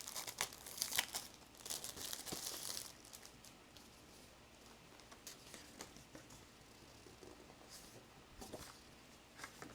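Blotter paper crinkles and rustles as it is handled, with quiet crackles and a few sharper crumpling bursts near the microphone and no talking.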